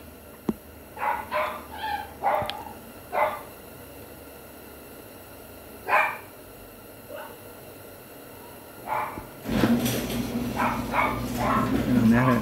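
Several dogs at home bark in scattered bursts, some near and some muffled, with gaps between volleys, then a noisy whoosh of a garage door opening takes over with continued barking underneath.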